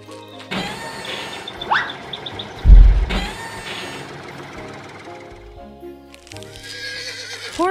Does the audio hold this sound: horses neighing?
yes